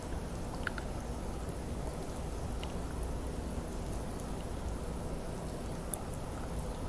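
Steady, even rain falls outside, a continuous dense hiss with faint scattered drop ticks, moderately quiet and unbroken throughout; no talking.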